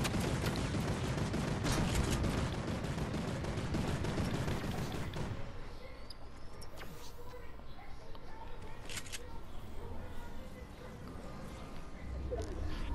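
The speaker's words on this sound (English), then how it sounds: "I'm gonna shoot that turret down." Rapid gunfire in the Fortnite video game as a player shoots down a turret, a dense burst of shots for the first few seconds, then sparser scattered shots and game noise, with a voice talking over it.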